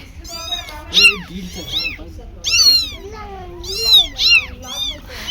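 Young kittens meowing close by, a string of high, rising-and-falling mews in quick bursts, several overlapping, with quieter gaps between calls.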